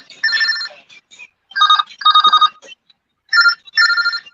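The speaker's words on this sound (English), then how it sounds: "That's your phone, Pot?" A mobile phone rings in repeated electronic tone bursts with short gaps between them, loud and close, with no talking over it.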